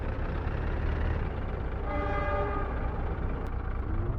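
A train in the city-building game Workers & Resources: Soviet Republic rumbles steadily with a constant low roar, a brief horn-like tonal wail rising in the middle, no talking.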